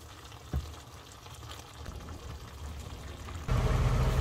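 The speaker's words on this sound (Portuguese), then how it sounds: "Vamos deixar ferver por mais 15 minutos." Chicken tagine simmering in a pot gives a steady sizzle and bubble that grows noticeably louder toward the end.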